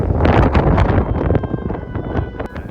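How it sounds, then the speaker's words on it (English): Strong, gusty wind at a rocket launch site, blowing around 20 mph with gusts near 35, buffeting the microphone in a loud continuous roar that swells and eases without any speech. "The wind had always been a factor, but today it was blowing at about 20 miles per hour constant, with gusts up to 35."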